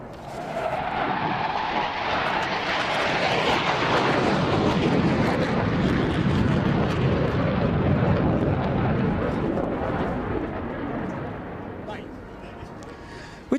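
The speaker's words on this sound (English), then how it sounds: "the aircraft gets ready for the second max thrust flypast" A military jet roars past at a British airshow on a max-thrust flypast, a loud sustained sweep that swells and fades over several seconds, with a commentator talking beneath it.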